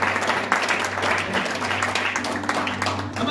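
A church congregation at a Manchester worship service applauds, a steady mass of clapping over a low sustained hum, with faint voices mixed in.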